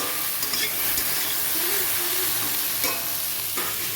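Okra sizzles in a pan with salt and turmeric, a loud, dense, continuous frying hiss heard up close, with occasional soft scrapes from stirring.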